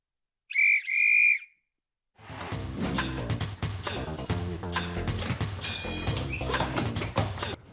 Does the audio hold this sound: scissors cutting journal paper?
no